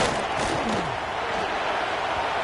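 A football video game crowd fills the stadium with a constant, loud roar of cheering, broad and unbroken, with a few faint shouts within it.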